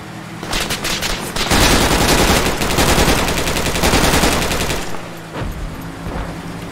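Loud, sustained automatic gunfire from the video game Project Reality, rapid bursts merging into a continuous roar that eases off briefly before more fire follows.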